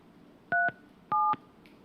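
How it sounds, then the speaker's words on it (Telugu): Two short telephone keypad dialing tones sound in quick succession over a quiet background while a call is placed to an MLA's phone, with no voices. "మన పీసీఆర్ టీం కూడా ఆ కోనేటి ఆదిమూలంకి ఫోన్ కలుపుతా ఉన్నారు"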